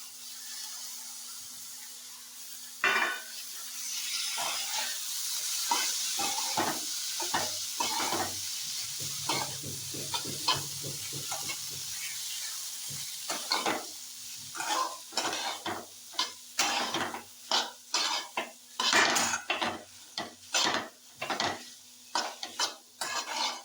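Boiled sweet corn tossed into a pan and stirred, with repeated sharp scrapes and clacks of a spoon against the pan over a faint sizzle, growing into a quick rhythmic series of strokes.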